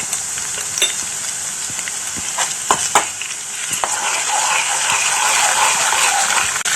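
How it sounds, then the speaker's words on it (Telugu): Sliced onion and green chili frying in a pan give off a bright, continuous sizzle, with scattered clicks and scrapes of a spatula that grow busier toward the end. "ఇప్పుడు ఉల్లిపాయ పచ్చిమిరపకాయ వేయించుకుందాం"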